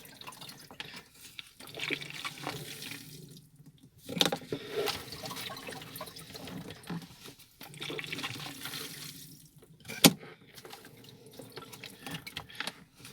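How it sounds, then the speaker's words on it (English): Water from a hand-operated centrifugal pump flows into a bottle, with irregular gurgling, splashing and trickling in uneven surges, close and fairly quiet, without talk. "I'm actually pushing this through the centrifugal pump, so that's why it's a bit harder than normal"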